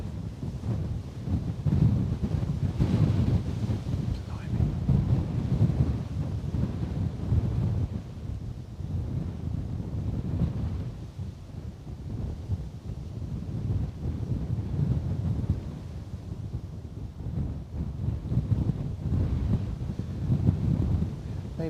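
A crosswind at Bristol Airport buffets the microphone for the whole stretch, a constant low, gusting rumble that swells and eases.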